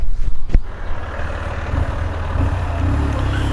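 A lorry rumbles nearby with a steady, heavy engine drone and broadband road noise, loud and continuous.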